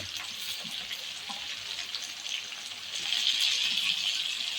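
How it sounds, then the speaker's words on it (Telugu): Green chillies and okra fry in a pan with a steady, hissing sizzle that swells louder toward the end, with faint crackles and pops mixed in. "ఇగో పచ్చిమిరపకాయలు, బెండకాయలు 2 వేగిపోతాయండి."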